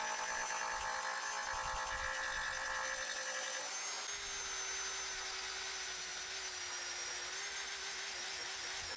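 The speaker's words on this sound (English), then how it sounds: "for those I used my electric file" Electric file smoothing hard-to-reach faces of a wooden cat radiator bed, a close, high-pitched whining buzz that runs steadily, its tone shifting partway through as the tool's load changes.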